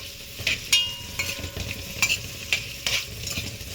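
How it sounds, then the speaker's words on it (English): Onions are stirred around a hot pan, with a soft continuous sizzle under a series of sharp spatula scrapes and clacks roughly every half second, close and moderately loud, with no voices. "I'm going to just stir them around for just a quick second"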